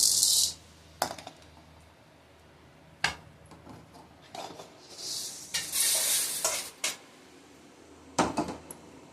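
Spices for homemade chilli powder dry-roast in a pan over low flame, with scattered scraping stirs and brief bursts of crackling toasting, quiet gaps between them and no talk.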